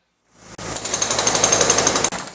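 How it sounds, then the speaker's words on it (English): A jackhammer chips concrete in one loud, close burst of rapid rhythmic hammering that lasts under two seconds and stops abruptly. "concrete chipping generates a significant level of noise that is unavoidable"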